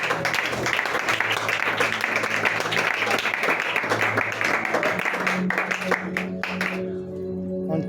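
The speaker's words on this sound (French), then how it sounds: "Est-ce que tu peux acclamer pour Jésus?" A church congregation cheering and applauding for Jesus, with dense, loud, sustained clapping and crowd noise that continues steadily, then fades and thins out near the end, leaving a low hum.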